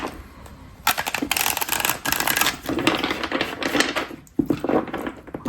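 A deck of tarot cards is shuffled close by, giving crisp clattering, riffling bursts that start and stop in quick runs.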